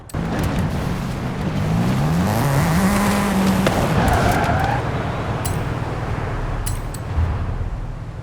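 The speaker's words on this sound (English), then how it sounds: "That's the Formula Drift Mustang." A Formula Drift Mustang slides through a drift in Forza Horizon 5, its engine revving and pitching up as the tires squeal steadily, loud and close, with brief sharp ticks late on and no voices.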